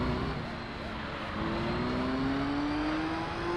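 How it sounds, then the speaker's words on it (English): Race car engine revving in the pits in the Gran Turismo 3 racing game, heard as a faint, steady engine drone with a slowly rising pitch beneath quiet background noise. "You can hear it in the pits, revving its engine."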